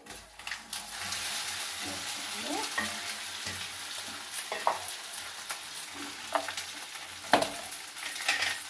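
Taro roots frying in a pan with a steady hiss, with occasional scraping and stirring and a few louder clatters, heard alone and close.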